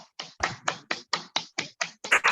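Hand clapping during an online public speaking practice session: about nine separate, evenly spaced claps, close and fairly loud, with a short brighter burst at the end and no talking.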